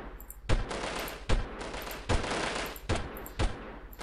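Automatic gunfire in the Delta Force video game, a Spec Ops mission in Uzbekistan, comes as five loud, sharp bursts at fairly regular intervals, each trailing off briefly before the next.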